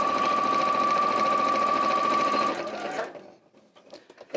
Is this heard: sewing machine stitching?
yes